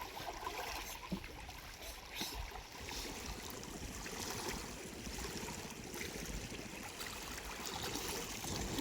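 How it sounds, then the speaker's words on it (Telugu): Wind-driven waves on the Krishna River splash and wash steadily in a continuous broadband rush, with a few sharper slaps early on; fairly faint and constant, no voices. "అలలు కూడా ఎగిసి ఎగిసి కొడుతున్నాయి"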